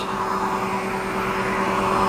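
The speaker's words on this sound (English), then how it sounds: "the fast air coming out of the dryer" High velocity dog dryer blowing a fast jet of air, a loud steady whooshing roar with a constant motor whine, close and unbroken throughout.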